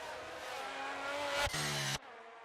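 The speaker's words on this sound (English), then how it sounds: "right in front, Lepson has spun out" Race car in a racing video game, Belgian Grand Prix, spinning out: engine drone shifts into a sharp, loud tire squeal lasting about half a second, then cuts off abruptly to a quieter hum.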